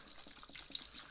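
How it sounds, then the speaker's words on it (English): Vinegar poured into a container to cover galvanized steel, a soft, steady trickle of liquid close by with faint splashy texture throughout. "So all we need to do is pour vinegar in"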